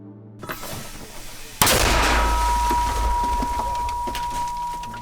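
A mortar firing: one heavy, loud blast that rolls into a long, sustained rumble, preceded by a softer, noisy stretch.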